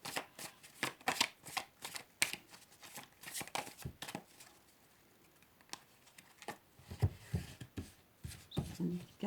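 Oracle cards are shuffled by hand in a long run of quick, crisp riffling bursts and slaps, close and fairly loud, with a few short pauses and no talk over them.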